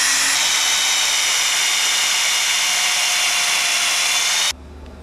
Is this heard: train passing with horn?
no